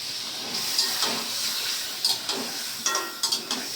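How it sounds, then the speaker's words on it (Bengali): A rohu fish head lands in a hot pan with bay leaf, setting off a steady close hiss of frying broken by several sharp clatters as it is turned. "তো এখন আমি মাছটা দিয়ে দিব, মাছটা দিয়ে দিচ্ছি।"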